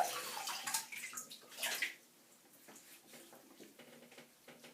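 Water splashes as a face is rinsed by hand, a few close wet bursts in the opening two seconds before settling into faint dripping and quiet movement.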